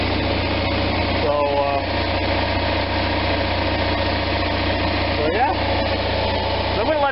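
An air-cooled Onan RV generator engine runs steadily at close range, a continuous loud droning hum with faint metallic rattles, while someone talks briefly over it.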